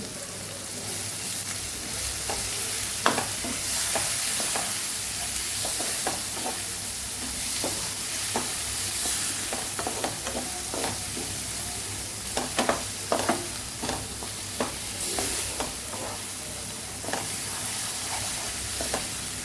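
Raw green mango and garlic chutney with asafoetida being stirred in a pan over a low flame: a steady soft sizzle carries throughout, broken by repeated scraping strokes of the spoon, close and fairly loud, with no voices.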